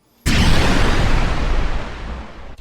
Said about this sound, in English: This one's a little bit more sci-fi, technological.